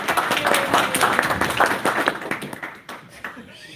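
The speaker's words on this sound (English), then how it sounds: "can I get a round of applause for these people?" Applause from a conference audience at a Route 66 business gathering, many hands clapping in a dense, steady patter that thins out toward the end, with voices mixed in.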